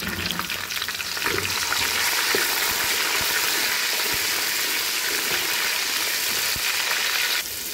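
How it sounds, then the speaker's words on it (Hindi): Tomatoes tipped into a hot frying pan with chicken kofta pulao masala, setting off a loud, steady sizzle and crackle that runs for several seconds before easing off. "अब हम इसमें डालेंगे टमाटर"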